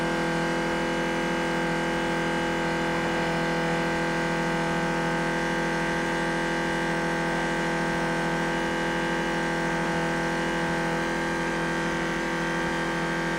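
A race boat engine runs at a steady, unchanging drone with a strong hum and tonal whine, held close and loud throughout with no voices.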